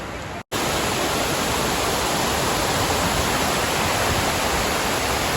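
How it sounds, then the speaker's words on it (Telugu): Lodda Waterfalls in Manyam District roar as a steady, dense rush of falling water, loud and continuous throughout, with a brief dropout near the start. "Finally reached the water falls."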